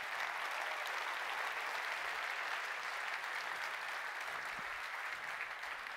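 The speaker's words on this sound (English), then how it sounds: "So let's give them a big round of applause." A keynote audience at a SUSECON 2017 conference hall applauds the sponsors, sustained, even applause from many hands at moderate distance, fairly quiet and steady.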